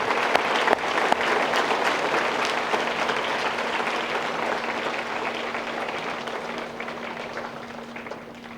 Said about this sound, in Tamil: எல்லாரும் சேர்ந்து ஜோரா கை தட்டுங்க.